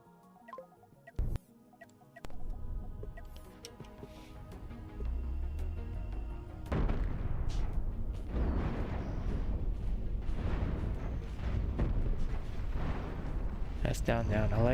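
Spaceship cannons fire in the video game Cosmoteer, sparse booms at first giving way to a dense, continuous barrage of rapid thuds and crackling impacts that holds steady to the end.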